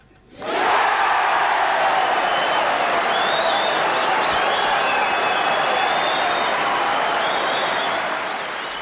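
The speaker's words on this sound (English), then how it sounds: "Wait for the applause." Sustained, loud applause with some cheering from the crowd at the Crucible during the 1984 Steve Davis v Jimmy White snooker match, bursting in abruptly and rolling on steadily before easing slightly at the end.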